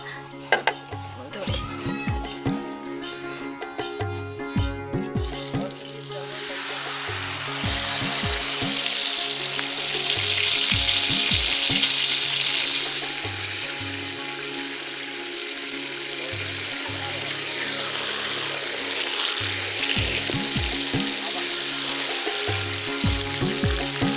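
Stingray fries in hot oil over a coastal village cooking fire in Kuakata, Bangladesh, a loud continuous sizzle that swells when the fish goes in, with clinks of pots and utensils and occasional voices alongside.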